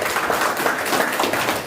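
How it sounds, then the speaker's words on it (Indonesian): At a volunteer alliance rally, the crowd applauds for Prabowo Gibran with a thick, continuous wash of clapping held at a steady, moderately loud level throughout. "tepuk tangan untuk Prabowo Gibran"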